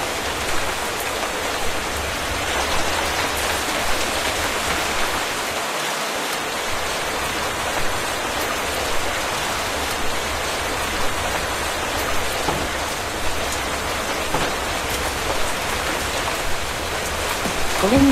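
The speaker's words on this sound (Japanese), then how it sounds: "それにしてもすごい雨だ。" Heavy rain in the Minecraft video game falls as a loud, unbroken wash of hissing noise, steady and close for the whole stretch with no voices over it.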